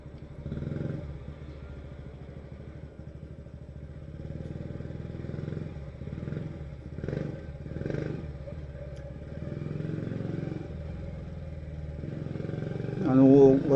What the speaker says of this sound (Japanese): 吉村サイクランという社外マフラーに変えてるので、かなり爆音がうるさいので